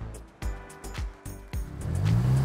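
A car sets off on a city tour of Mexico City, its engine rising in short bursts and thuds near the cabin before settling into a steady, building hum of acceleration.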